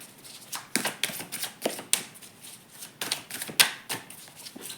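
A True Oracles by Moca oracle card deck is shuffled by hand in quick, crisp riffles and slaps that repeat in an uneven rhythm, close and clear, with no talking.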